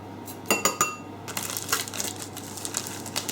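A knife scrapes cheesy Quaver crumbs from a crisp packet, giving a few sharp metallic clicks followed by a run of dry, rustling scrapes and crinkles, close and moderately loud.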